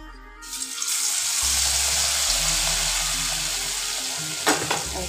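Ash gourd fritter batter frying in hot oil, a steady loud sizzle and crackle that runs throughout, with a brief clatter near the end.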